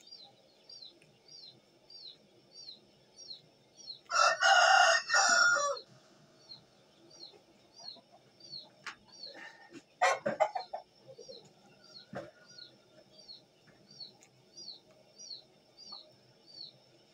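An Asil rooster crows loudly once, then clucks and scratches in short bursts during hand training. A steady, faint chirping of small birds repeats in the background throughout.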